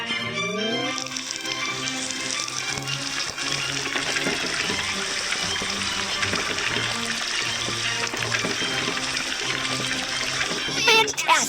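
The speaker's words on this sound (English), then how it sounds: "Drag the hose to fill the pool with water." Cartoon water gushes from a hose into a pool in a kids' truck game, a steady splashing flow lasting several seconds beneath a tinkly musical background, ending with a brief chime.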